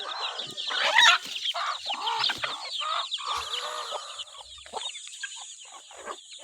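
Many chickens and chicks cluck and peep together on a farm. The calls are busy and overlapping, close by, and keep going with no speech.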